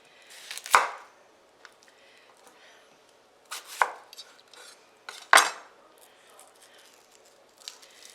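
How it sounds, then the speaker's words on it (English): Onion being chopped with a knife on a cutting board for a ham quiche, three distinct sharp close knocks spaced a few seconds apart with faint clatter between, no talking. "I'm going to add a little bit of onion chopped."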